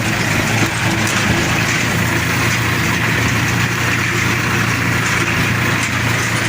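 A Massey Ferguson 241 tractor engine idles loudly and steadily close by, a constant droning rumble with no pauses.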